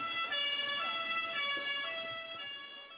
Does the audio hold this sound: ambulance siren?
yes